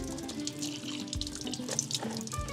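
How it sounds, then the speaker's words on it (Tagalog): Water trickles and drips continuously through a homemade sand water filter, with clean sand inside, as water poured on top drains out below. The sound is a close, steady splashing patter with small irregular droplet hits. "maglalagay ng tubig sa ibabaw, at ang papatak na tubig sa baba"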